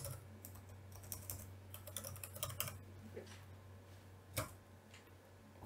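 Clicks from a computer keyboard in a quiet room, with irregular bursts of keystrokes, some pauses between them, and one sharper, louder tap near the end over a low background hum.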